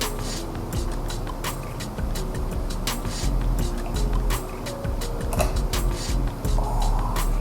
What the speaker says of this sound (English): It's like fizzing.